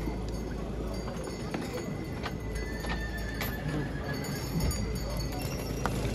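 Young draft mares moving about at a horse market in Sighetu Marmației, hooves clopping and occasional snorts amid a busy outdoor din, voices faintly mixed in.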